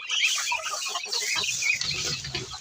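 Chickens and ducks clucking and squawking in a busy commotion at feeding time on a backyard farm, dense overlapping calls close by with a steady background of scratching and shuffling throughout.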